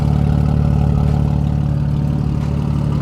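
A BMW G80 M3 / G82 M4 fitted with an Active Autowerke midpipe idles close by, a steady deep burbling drone with a fine rhythmic pulse and no talking.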